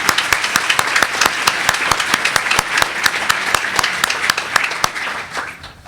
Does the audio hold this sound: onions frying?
no